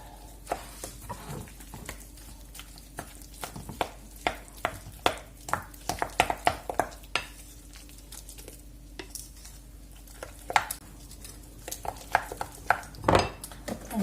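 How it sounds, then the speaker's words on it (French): A utensil scrapes and clinks against a pan while salted courgettes are stirred, giving irregular light taps and scrapes close by over a faint background hum. "Et on va touiller"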